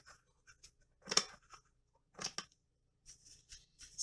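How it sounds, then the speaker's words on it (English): Scissors snip through felt craft material in a few short, quiet cuts, separated by soft rustling and brief pauses, heard up close in a calm room. "I'm just going to snip it."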